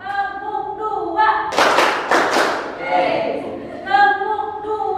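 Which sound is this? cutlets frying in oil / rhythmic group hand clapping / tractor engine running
rhythmic group hand clapping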